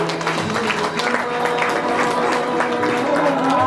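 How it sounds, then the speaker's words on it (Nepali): Guests at a Nepali Christian wedding applaud, a dense and steady clapping from a crowd that fills the whole stretch without pause. "हामी ताली बजाइदिनेछौँ।"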